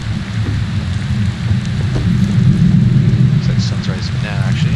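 Heavy rain falls in the video game Prologue: Go Wayward!, a dense, continuous low rumbling downpour with a steady hiss that stays loud throughout.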